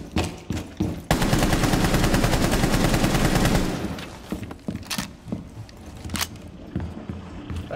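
Rapid automatic gunfire in Rainbow Six Siege on the Consulate map, a dense loud burst lasting a few seconds, followed by scattered nearby shots and impacts.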